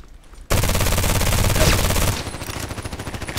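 Sustained fully automatic burst from a Kriss Vector SMG in the shooter Contract Wars, a loud, rapid stream of shots that cuts in abruptly and tails off into a softer rattling echo.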